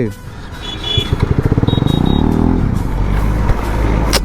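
A road vehicle passing close by, its engine rising in a rapid pulsing throb that swells and then settles into a steady rumble, with a voice briefly heard over it.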